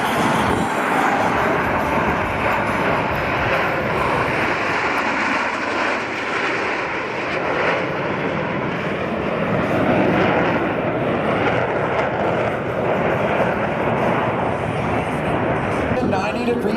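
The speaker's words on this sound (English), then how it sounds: "Degrees angle of bank across canopy to canopy as they perform the opposing knife edge pass." Military jets roar overhead at an air show during an opposing knife edge pass, a loud continuous broadband jet rumble that persists throughout with crowd talk faintly underneath.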